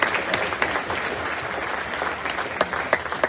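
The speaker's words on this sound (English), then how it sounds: "Please, a big round of applause for Mickey." A cruise ship audience applauds a top-ranked passenger at an awards moment, with steady dense clapping and a few sharper claps standing out, moderately loud throughout.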